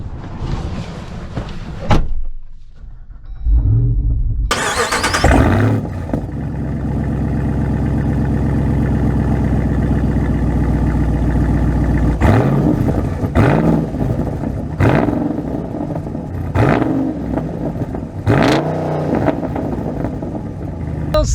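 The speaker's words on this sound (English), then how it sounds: "Setting off in my Rubicon 392, driving this back to back with the Hellcat" A Jeep Wrangler Rubicon 392 with a V8 engine pulls away after a door thuds shut. The engine rises into a loud, close, throaty rumble with repeated revving surges and gear changes, and no talk over it.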